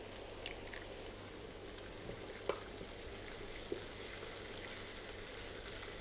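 An egg fries in a spoonful of oil with a faint, steady sizzle and crackle, quiet and even throughout, with a couple of small pops and no voices.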